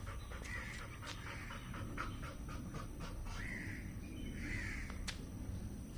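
A few crows caw at a distance, scattered harsh calls over a constant low background hiss.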